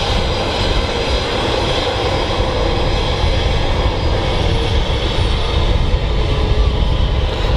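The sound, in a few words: Ryanair airliner engines at Manchester Airport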